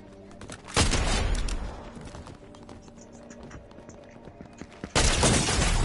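Rapid gunfire bursts ring out in the Fortnite video game, a loud close volley at the start, scattered quieter shots, then another heavy burst at the end.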